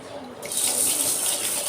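Water pours steadily into a bowl of green gram, a bright continuous splashing that starts abruptly and stays loud, like grains being rinsed under running water.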